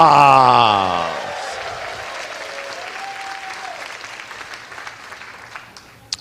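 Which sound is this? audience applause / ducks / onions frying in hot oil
audience applause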